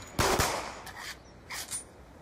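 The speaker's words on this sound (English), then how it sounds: "Seth says, please fire two bullets into the air." Gunshots fired into the air in Call of Duty Black Ops 2, two sharp reports close together followed by a quieter pair of bursts, loud and close with no talking.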